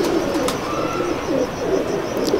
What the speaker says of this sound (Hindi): ये कबूतर मेरे पास आया था